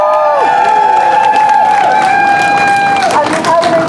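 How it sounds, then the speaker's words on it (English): A rally crowd backing caregivers' rights cheers and claps loudly and steadily, with shouted whoops and voices rising over a dense wash of applause. "Let's give them a huge round of applause."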